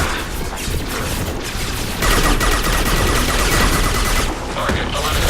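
Dense, continuous gunfire and impacts fill a firefight in the video game Mass Effect 2, loud bursts layered with crashes and battle noise throughout, with a voice speaking briefly amid the chaos.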